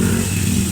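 A rewound electric fan motor running after winding repair, a steady close-up hum with a buzzing mechanical drone that stays constant and loud throughout, with no voices.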